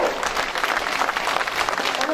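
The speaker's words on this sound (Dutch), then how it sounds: "En een zeer terecht applaus voor een van de allermooiste junioren kampioenschappen van de laatste jaren." Warm audience applause at a junior national championship, a steady wash of clapping from a crowd lasting the whole brief moment, moderately loud.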